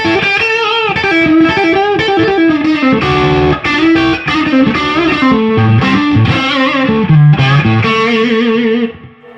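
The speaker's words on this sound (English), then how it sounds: "I'll put on the overdrive from the Dualist" A Fender Custom Shop '60 Stratocaster played through the overdrive side of a Dualist pedal, gritty distorted chords and riffs ringing out loud and alone, ending as the last notes fade.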